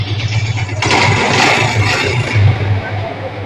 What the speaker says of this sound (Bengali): এই বাইকের আমরা ফুল সার্ভিস করছি। সাউন্ডটা দেখেন